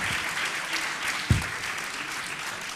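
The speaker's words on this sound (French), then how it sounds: "alors, on va vous applaudir" An audience applauds at the close of a round-table discussion, a steady wash of clapping throughout with one sharp louder clap or thump midway.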